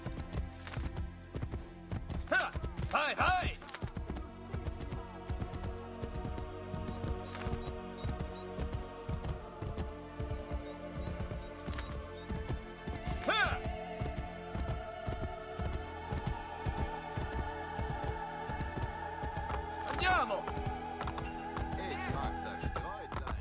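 Horse hooves clip-clop steadily in the video game Assassin's Creed Brotherhood, a continuous rhythmic trot heard up close, with someone talking intermittently over it.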